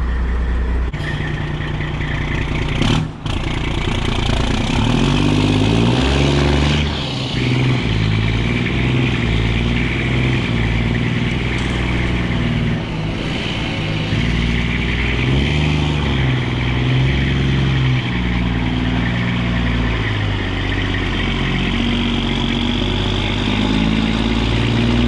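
Restored Kenworth truck with a straight-piped Detroit Series 60, hauling a chained-down excavator, pulls away: a loud, continuous diesel roar that rises and falls through gear changes and keeps droning close throughout.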